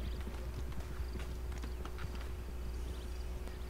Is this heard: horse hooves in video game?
yes